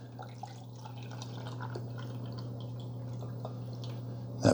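Water trickling and dripping into the reservoir of a Hamilton Beach The Scoop single-serve coffee maker (model 49981), a steady soft pour with a low hum underneath, fairly quiet throughout and ending in a brief louder knock.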